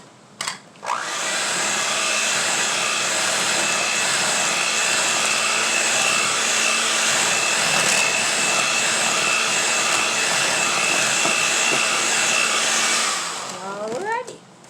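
An electric mixer whirs steadily through coconut pound cake batter, a loud continuous high whine lasting about twelve seconds with brief starts and stops at either end.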